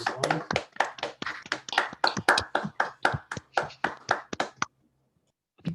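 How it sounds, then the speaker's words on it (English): Participants in a GitLab virtual meetup on continuous integration clap for the speakers over an online call: a dozen or so crisp, steady hand claps in a loose rhythm, fairly close, stopping abruptly before a short silence. "So if you don't mind just unmuting and joining me and giving the speakers a round of applause."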